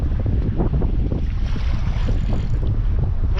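A fishing boat pounds through rough, storm-driven waves while heavy wind roars across the microphone, a dense continuous wash of water slaps and hull thumps filling the whole stretch with no voices.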